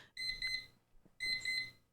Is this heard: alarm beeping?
yes